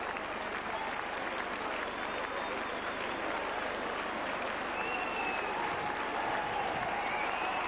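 St Helens Saints rugby league crowd applauds a try in a home match against Halifax, continuous dense clapping and rumbling crowd noise holding at an even, loud level throughout.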